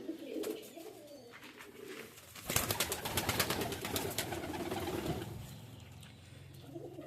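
Rajshahi Giribaj pigeons coo softly at first, then a loud burst of wing flapping and fluttering as birds land nearby, with cooing continuing underneath.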